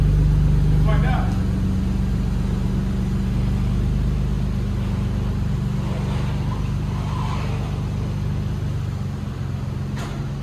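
A straight-piped Toyota Supra with a newly fitted complete exhaust drones loudly and steadily from close by as it drives, a deep continuous rumble with a brief throaty rise near the start and a voice murmuring beneath.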